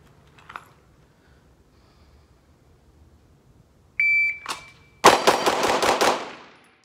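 Rapid string of Glock 45 pistol shots fired at a target, a sharp report followed by a quick burst of about six loud cracks with ringing tails, preceded by a brief electronic timer beep.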